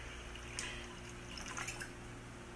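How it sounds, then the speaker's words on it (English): A cup of water is poured into a pot for cooking oatmeal: a faint trickling splash under steady room hiss, quiet and continuous. "I'm going to put a cup of water in here."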